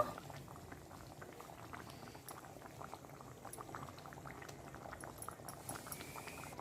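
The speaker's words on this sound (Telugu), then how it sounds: "ఇదిగోనండి పులుసు బాగా మరిగిపోయింది" Nellore-style fish curry (pulusu) bubbling steadily in a pot, a continuous dense simmer of small popping bubbles heard close and alone throughout.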